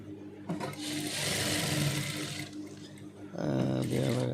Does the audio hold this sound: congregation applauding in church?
no